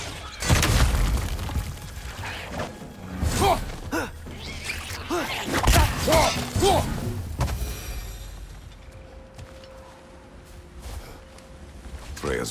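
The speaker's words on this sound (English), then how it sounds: "Watch the exploding one!" An exploding enemy blows up during combat in God of War Ragnarök, giving loud booming and shattering crashes mixed with game effects and talk, after which the scene fades to quieter narration.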